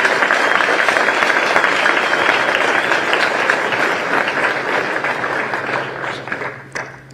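Sustained applause from a crowd at a disc golf world championship opening ceremony, loud and dense at first, then thinning and tapering off near the end with a few scattered last claps.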